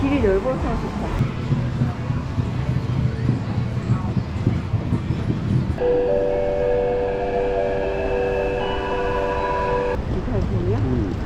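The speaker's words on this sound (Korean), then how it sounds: "기차역이야?" A train at a station in Taiwan rumbles along, then gives a sustained, loud, multi-tone horn blast lasting several seconds before it cuts off, with people talking nearby.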